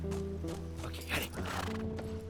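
Horses walk in a video-game scene from The Last of Us, their hooves clip-clopping steadily over a sustained musical backdrop, moderately close.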